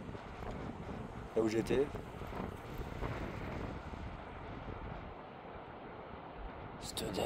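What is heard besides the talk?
strong wind gusts during Storm Herminia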